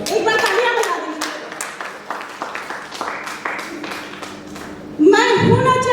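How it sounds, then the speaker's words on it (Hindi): A live audience claps in scattered, uneven bursts at a Hindi-language poetry event, with separate slaps audible, then a voice starts speaking loudly near the end. "जोरदार माहौल दीजिए तालियों से, एक बार तालियां बजा दीजिए।"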